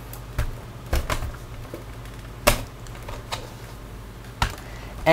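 Screws being removed from a Toshiba Satellite Pro C50-A laptop during a teardown, heard as a few sharp, close clicks and taps against the casing, spread unevenly over a low background hum.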